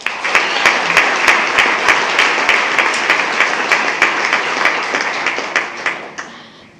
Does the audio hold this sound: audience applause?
yes